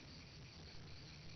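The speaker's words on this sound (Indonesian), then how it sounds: "Hanya suara jangkrik dan suara binatang malam yang terdengar." Crickets chirp at night in a steady, dense trill that carries on without a break, faint and even, with no other sound above it.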